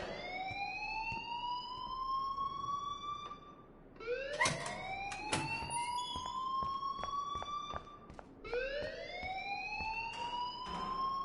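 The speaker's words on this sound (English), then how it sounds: "please turn off that alarm since that's your job" A wailing fire alarm blares in the video game Life is Strange, rising sweeps repeating in long cycles with brief clicks and thumps between them, loud and continuous without talk.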